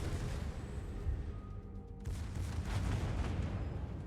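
Heavy naval gunfire in World of Warships, with a Colorado battleship firing on a German battleship: continuous booming salvos and rumbling blasts, loud and dense throughout.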